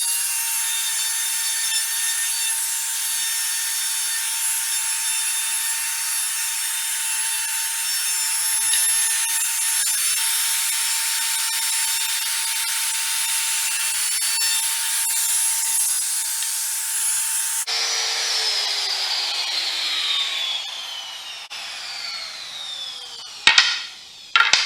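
A router rounds over the wooden edges of a mid-century modern plant stand, a high, steady whine as it cuts continuously, then spinning down near the end with a few sharp clunks.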